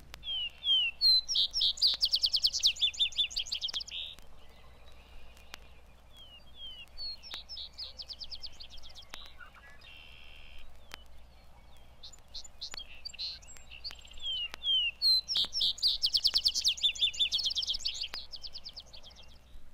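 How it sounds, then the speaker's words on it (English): Vesper sparrow singing at twilight in woodland, repeated bright trilling phrases at fairly close range, separated by short pauses, over a faint low background hum. "the vesper sparrow that does his finest singing in the twilight"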